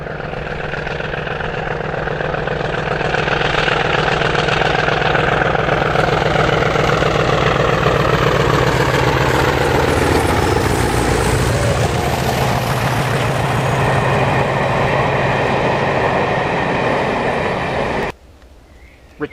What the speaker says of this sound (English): Living up to her name, Thunderer makes a wonderful noise as she pounds up Erdington Bank